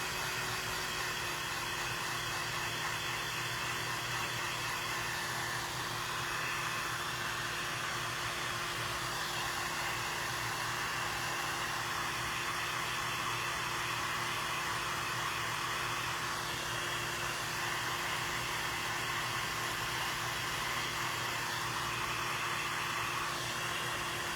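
Hair dryer blowing steadily and close by to dry paint on a handmade wooden baby sign, a continuous broadband whoosh with a low hum, unbroken for the whole stretch with no talking.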